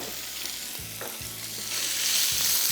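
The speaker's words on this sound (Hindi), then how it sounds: "तेज़ आंच पे इसको करेंगे पहले फ्राई।" Minced chicken fries in hot oil over high heat, sizzling loudly and steadily up close, with a few stirring scrapes and bumps breaking through the hiss.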